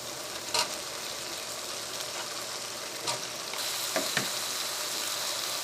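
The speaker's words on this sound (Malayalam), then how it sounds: "ആദ്യം നമുക്ക് ഇതിലേക്ക് ഉരുളൻകിഴങ്ങ് ഇടാം." Potatoes and tomatoes frying in a pan for a vegetable pulao, a steady close sizzle with a few brief stirring clicks and a slight rise in intensity partway through.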